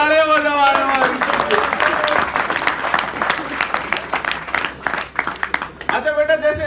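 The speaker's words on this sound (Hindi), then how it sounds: "जोरदार तालियां बजाओ।" An audience breaks into loud, dense applause at a motivational comedy talk, a sustained clatter of many hands, with a voice speaking over it at the start and end.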